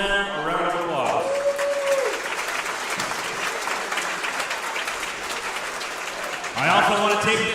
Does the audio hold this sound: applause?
yes